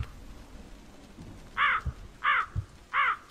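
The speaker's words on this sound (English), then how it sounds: "Shit, a crow?" A crow in a horror video game caws three times in a steady rhythm, close and clear, the harsh calls standing out over dark ambient game noise.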